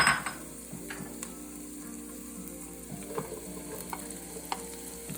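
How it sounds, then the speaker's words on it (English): Onion, garlic and mushrooms frying in butter in a pan, stirred with a utensil: a soft steady sizzle under scraping strokes and light clinks against the pan, close and quiet, no talking. "he's going to stir that around until things start to turn color here"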